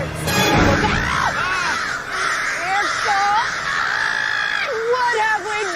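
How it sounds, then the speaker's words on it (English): Crow-like birds cawing and screeching in a dense, overlapping flurry, loud and close, used as a sound effect alongside voices. "Those are birds! Look out!"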